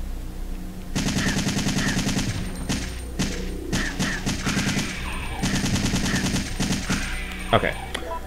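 Assault rifle gunfire in Resident Evil 3, loud rapid automatic bursts of several seconds each separated by short gaps and single thuds, close and dominant.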